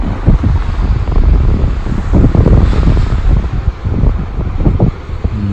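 Loud wind buffets the microphone while sea waves wash and rumble steadily on the shore, no voices, a constant rough roar.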